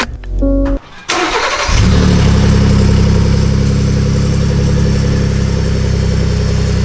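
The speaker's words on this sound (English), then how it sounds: "first, the cold start" A Ford F-150 engine cold-starts in winter: brief cranking, a short pause, then it catches and settles into a loud, steady idle that runs close and alone.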